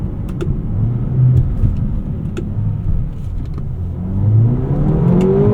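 Turbocharged four-cylinder of a 2024 Mercedes-AMG GLA 35 with a synthetic engine note, a steady close drone that swells as it revs, rising in pitch late on, with no talk.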